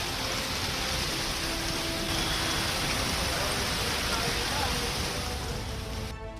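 Steady, dense hiss of heavy rain pouring continuously at close range in Delhi, with no breaks and a faint low rumble underneath.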